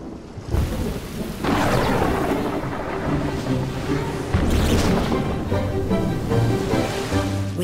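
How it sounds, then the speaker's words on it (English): A thunderstorm with deep rolling thunder rumbling twice over steady rain, loud and close, with no voices. "sometimes filled with a thunderstorm."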